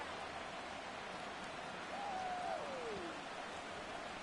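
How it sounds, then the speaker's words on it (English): Steady hiss of heavy rain falls across a Jacksonville field in a Bengals at Jaguars football video game, a constant wash of noise with a short sliding whistle-like tone partway through. "And this is a very solid rain here in Jacksonville."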